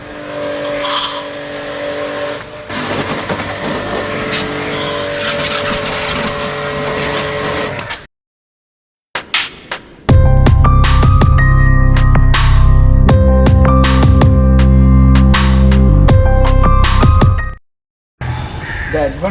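A pressure washer sprays a car, hissing loudly in long continuous bursts with a strong pump drone, interrupted by short pauses of silence and clicks as the trigger stops and restarts.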